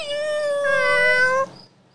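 A person imitates a cat with one long, drawn-out meow in a clear tonal voice. It lasts about a second and a half, is close and loud, and trails off into quiet.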